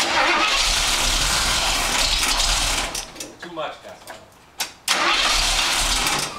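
A car engine cranks and catches, then revs loudly and steadily, dips and sputters briefly mid-way before roaring back up; a voice speaks over it.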